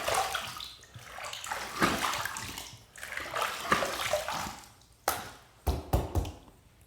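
Running water rinses a Rockwell 6S adjustable razor, a steady rushing flow broken by splashes and a few sharp taps near the end.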